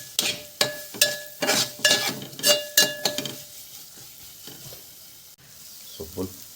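Mutton mince for keema patties fries in oil, a run of quick metallic spatula clanks and scrapes against the pan over a sizzle, then a quieter stretch with a last soft stir near the end.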